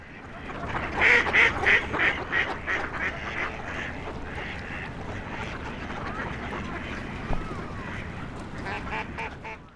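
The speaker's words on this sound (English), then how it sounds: "I can hear ducks in the background." Ducks quack repeatedly in a busy park, a cluster of loud calls early on, then scattered quacks under steady background noise and distant voices.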